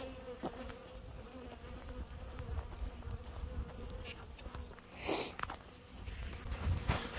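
Honey bees buzz continuously nearby during a hive check, a steady droning hum with occasional louder passes, and no voices.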